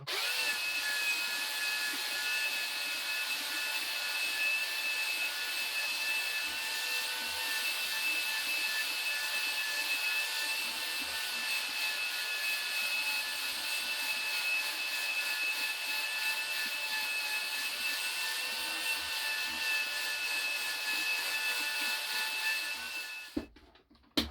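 A power sander works across a wooden board for a rustic coat hanger, holding a steady loud whine from start to finish with no break, then cutting off abruptly at the end.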